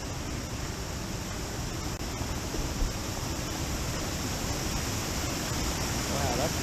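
Hamilton Falls in the Richland Creek Wilderness gives off a steady, loud, broadband rush of falling water that stays constant and close throughout.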